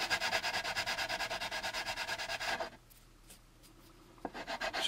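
Sandpaper rubs rapidly back and forth across a plastic model kit part of the primary hull, making a close, rhythmic rasping that pauses halfway and then resumes in short strokes.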